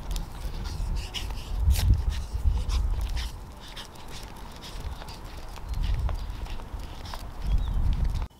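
A dog being walked outdoors pants and its steps tap in a light clip-clop rhythm, soft and close, rising and falling in short bursts.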